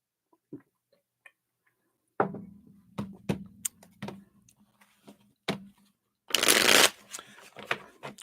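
Tarot cards being shuffled in several quick riffling bursts, close up, ending in a longer, louder flutter of cards.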